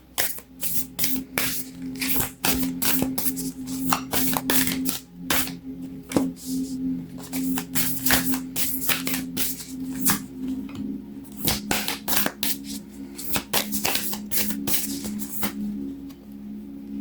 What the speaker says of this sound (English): I'm going to pull a couple of cards from this oracle deck, the secret language of darkness